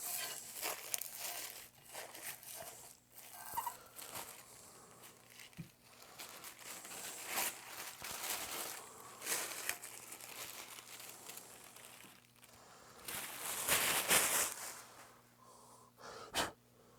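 Paper wrapping being crinkled and torn off the rings and parts of an Explore Scientific ED127 telescope during unboxing, an irregular run of close rustling and crumpling with a louder burst of tearing near the end.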